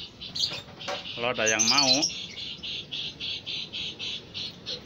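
Many caged birds chirp and call together, with a rooster-like crow and some wing flapping, followed by a steady repeating chirp. A person speaks briefly over the birds.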